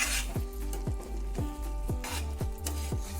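Prawn masala (kolambi) cooks in a pan with a continuous close sizzle while a utensil scrapes and stirs in a quick, regular rhythm of about six strokes.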